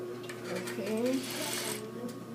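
A sewing machine stitches a fabric seam at a 2.5 stitch length, giving a short, quiet run of mechanical clicking and whirring with faint rattles. It is heard close up in a quiet room.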